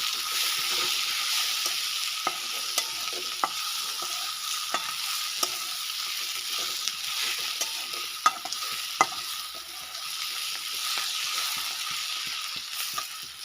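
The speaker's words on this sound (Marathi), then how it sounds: "परत मी हलवून घेते असं मस्त छान एकजीव करून घ्यायचं सगळी भाजी" Chickpea-leaf greens sizzle steadily in a pan while being stirred, a continuous close frying hiss broken by scattered sharp clicks and scrapes of the spoon, with no talk.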